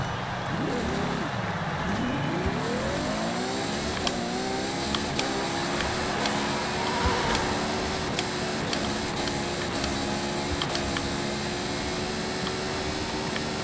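Ferrari FXX K engine screaming through a flat-out top speed run in Forza Horizon 5, revving up through gears with rising harmonic whine before holding a steady high-pitched drone, loud and continuous with no talking.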